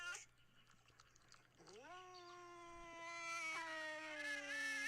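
Cats yowl at each other in a fight, one long drawn-out wailing caterwaul rising and wavering over a few seconds, faint and moderately distant over a low hum.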